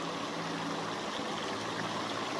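A two-ring digital water curtain in Dubai, UAE drops falling water droplets in a steady, even hiss, faint and continuous with no voices.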